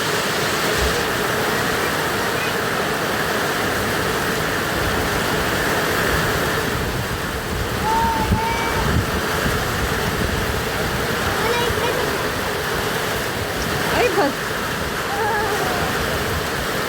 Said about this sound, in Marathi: आणि खरोखर पाऊस जोरदार यायला सुरुवात झाली आहे.